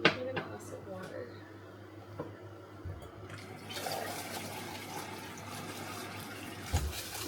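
Tap water runs into a glass indoors at home, a quiet trickle that swells into a steadier hiss of filling partway through, with a low hum beneath and people talking over it.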